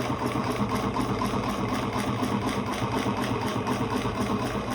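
Sewing machine back stitching up the end of a leather shoulder bag seam, a continuous, evenly pulsing motor hum with fast rhythmic needle chatter, close and steady throughout.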